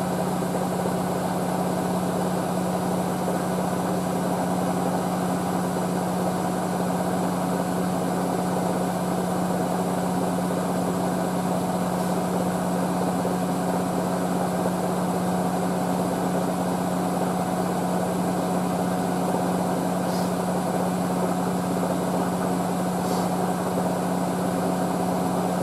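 A Hotpoint WD640G Aquarius+ Super Silent washing machine runs a 95°C white cotton programme, making a constant low motor hum and drone that stays steady throughout, with a few faint clicks and no speech.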